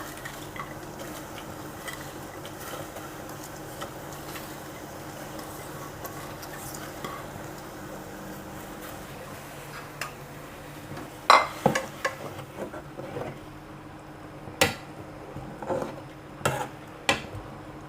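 A pot of Thai mackerel curry broth with fish balls simmers as ingredients are added and stirred, first a faint bubbling bed, then sharper clinks and scrapes of a utensil against the pot near the end.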